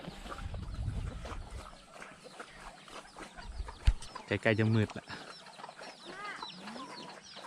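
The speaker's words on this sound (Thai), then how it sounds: "แล้วก็มีไก่" Chickens cluck and a bird calls briefly in a farm pen near pig and quail enclosures at dusk, faint and intermittent beneath a nearby voice talking.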